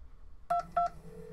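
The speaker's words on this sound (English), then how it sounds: "So right here is the actual 911 phone call." Two short telephone keypad tones sound clearly, then a low steady line tone hums, from a recorded 911 emergency call. The recording is quiet and nobody speaks.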